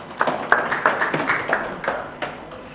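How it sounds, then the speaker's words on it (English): A small group claps for themselves in a seminar room, sparse, distinct hand claps in an uneven rhythm that thins out after about two seconds. "Give yourselves a clap."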